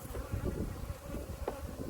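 Honey bees buzzing around a hive, a faint, low, continuous drone with light wind rumble and no speech.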